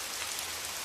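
Steady rain falls at night, a dense continuous hiss of drops on surfaces, even and unbroken throughout with no voices.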